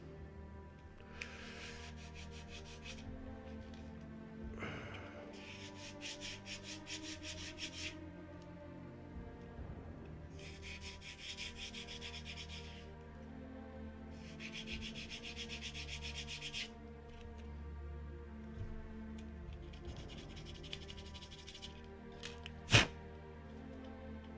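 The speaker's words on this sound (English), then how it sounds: "This is very, very fine sandpaper. It's like 600 grit rather than 500, which is typically used" Very fine 600-grit sandpaper rubs over a leather belt in faint, close bursts of raspy back-and-forth strokes, repeated several times with pauses between, and a single sharp knock near the end.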